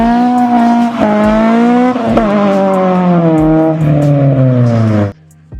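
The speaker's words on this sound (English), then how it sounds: "right off the bat is the exhaust note" A 2000s Acura RSX exhaust drones loudly and steadily with a rising, revving harmonic tone over about five seconds, shifting slightly in pitch before cutting off abruptly near the end.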